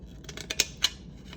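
A few sharp metallic snips of small scissors cutting through thin tin sheet, two crisp clicks standing out close by.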